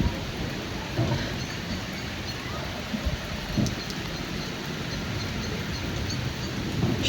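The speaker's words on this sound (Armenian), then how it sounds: "այդ անձրևի շիթերը լավ երևում է, հույս ունեմ կարկուտ չի գալիս այնտեղ" Steady, dense rain pours down outdoors in a heavy shower, a constant hiss of drops hitting surfaces with no pauses, fairly loud and even throughout.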